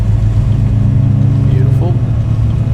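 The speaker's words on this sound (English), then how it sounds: "we're going to start off with our left engine first" The left engine of a twin turboprop starting in a flight simulator, a steady loud low drone with a pulsing hum and faint rising whine, someone talking over it.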